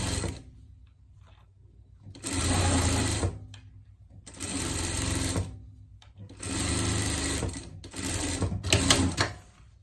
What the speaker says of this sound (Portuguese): Passar a costura de segurança aqui em cima.